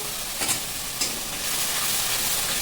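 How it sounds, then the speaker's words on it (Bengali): Spice paste with salt sizzles and is stirred in a pan while cooking a Bengali white chicken dish, a steady close frying hiss with a couple of scraping stir strokes, no talk. "এই মশলাটার সাথে 1 চামচ নুন দিয়ে একসাথেই কষবো।"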